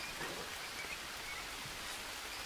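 Steady jungle rain hisses in the VR survival game Green Hell VR, a dense, even wash of falling drops with no voices.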